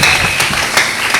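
Congregation applause at a Sunday church service, a steady broadband clatter of many hands with a couple of louder surges, filling the short moment without speech.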